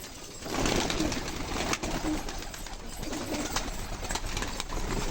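Many pigeons cooing together in a loft, a dense, continuous murmur of birds that sounds fairly close and steady, with no voices over it.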